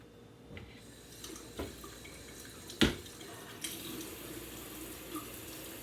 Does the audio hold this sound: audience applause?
no